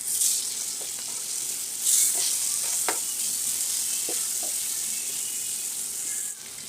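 Fish sizzles steadily in hot oil in a pan, a close, continuous crackling hiss with a few brief louder spits and pops, and no talking.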